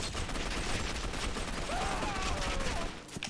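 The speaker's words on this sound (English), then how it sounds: "You shot him all in the face." Dense gunfire crackles in the video game Gotham City Impostors, a continuous rough barrage of overlapping shots at moderate volume with a faint ringing tone passing through it.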